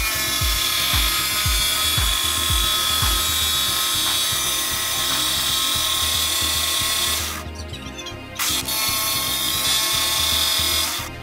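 A jigsaw cuts ventilation strips into a plywood door, a loud, steady buzzing motor with rapid rhythmic chatter, briefly stopping and then starting again near the end.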